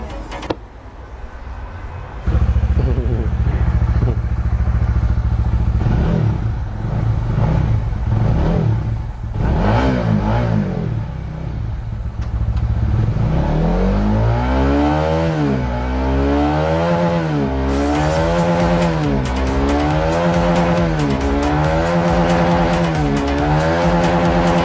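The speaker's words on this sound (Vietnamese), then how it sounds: "Ok, bây giờ mình sẽ nổ máy và test không tải cho anh em xem." A motorcycle with an aftermarket Rapido 2.0 swingarm is started and revved with no load, idling loudly close by before repeated throttle blips make the engine pitch climb and fall in waves.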